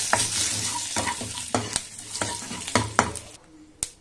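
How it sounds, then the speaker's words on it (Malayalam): Curry leaves hit hot oil in which mustard seeds have already popped, for a ginger curry. A busy, close sizzle comes with frequent stirring scrapes and crackles, then tails off into a final clack. "അതിലോട്ട് അല്പം കറിവേപ്പില ഇട്ട് കൊടുക്കാം"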